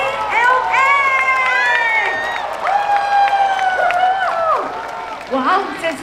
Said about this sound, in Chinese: 再一次最大热情的掌声跟尖叫声